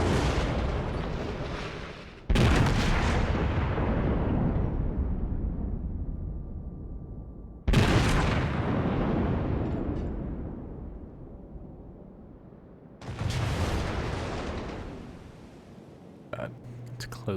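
Naval gunfire from a North Carolina battleship in World of Warships, three heavy booming salvos at roughly five-second intervals, each with a long rolling decay, plus a smaller thump near the end.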